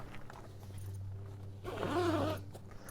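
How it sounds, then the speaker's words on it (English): A zipper closing along the door flap of a backseat pet hammock in a car, one soft, drawn-out zip that rises near the end, close and quiet. "So that's one side zipped up."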